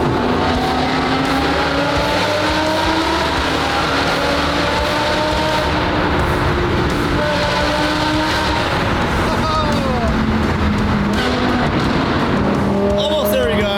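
A Lamborghini SVJ engine roars continuously through a tunnel, loud and close, its revs rising and falling in sweeping pitch shifts with echoing reverberation, while a voice talks over it.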